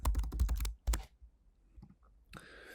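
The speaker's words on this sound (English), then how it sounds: "I'm just going to type in the defaults right here" Rapid clicking keystrokes on a computer keyboard as default lead-status entries are typed into a lead generation campaign setup, a dense burst for about a second, then near silence with a faint noise at the end.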